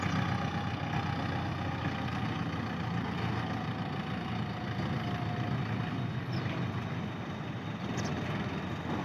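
A tractor engine idles at a sugar mill, a steady low, rumbling drone that holds constant throughout at moderate distance, with faint mechanical background noise and no talk.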